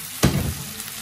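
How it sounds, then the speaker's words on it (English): Pork in marinade hits a hot pan for a stir-fry, giving a brief burst of close sizzling that settles into a steady frying hiss. "And we let that stir fry for about a minute."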